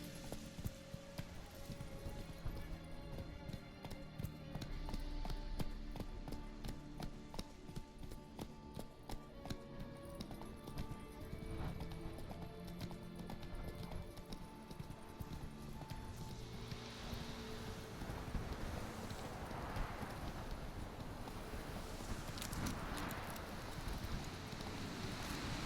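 Horse hooves gallop in the video game Witcher 3, a fast steady rhythmic clip-clop with wind noise and faint rustling, continuous and fairly close.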